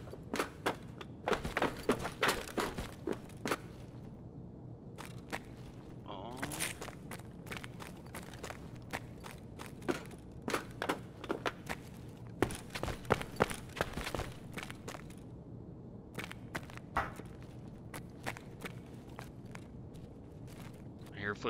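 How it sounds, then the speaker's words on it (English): Footsteps in Escape From Tarkov, bursts of crunching, thudding steps that come and go over about twenty seconds, mixed with other clatter and someone talking. "I hear footsteps for sure."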